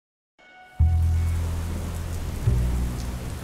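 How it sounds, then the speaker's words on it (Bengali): Heavy monsoon rain bursts in after a brief silence, a dense, loud, close roar of downpour that holds steady with low rumbling underneath. "বৃষ্টিটা বেশ বাড়তে শুরু করেছে"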